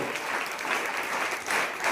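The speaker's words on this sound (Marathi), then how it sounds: "मी सगळ्या परीक्षकांसाठी आणि या विद्यालयातील सगळ्या विजेत्या मुलांसाठी एकदा जोरदार टाळ्या वाजवायला सांगतो" A crowd applauds the judges and winning schoolchildren at a bhajan competition prize-giving, producing a dense, even wash of clapping heard from some distance for the whole stretch.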